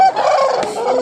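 A rooster at a busy Uzbek poultry bazaar gives one loud, harsh, close call lasting about a second.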